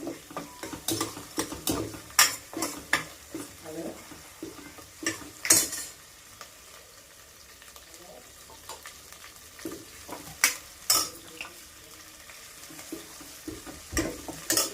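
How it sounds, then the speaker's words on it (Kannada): Masala for a red chicken gravy fries in a pan, a low sizzle broken by sharp metal clanks and scrapes of a spoon against the pan, loud and close, with no voices. "ಹಸಿ ವಾಸನೆ ಹೋಗೋ ತನಕ ಫ್ರೈ ಮಾಡಬೇಕು"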